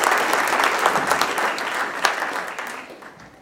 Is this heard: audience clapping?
yes